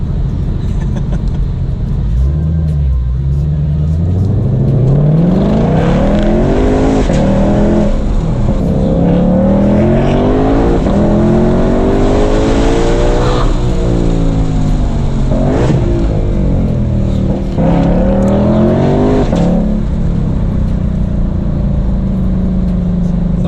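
A Shelby GT500 at a car festival revs loudly and repeatedly, its engine note climbing and falling in several throaty sweeps over a steady, close rumble that fills the whole stretch.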